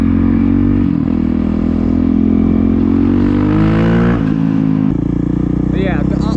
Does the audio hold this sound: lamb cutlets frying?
no